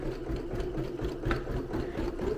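A PFAFF Creative 1.5 sewing and embroidery machine runs an embroidery pattern on its own, giving a steady mechanical hum with a light rhythmic stitching rattle throughout.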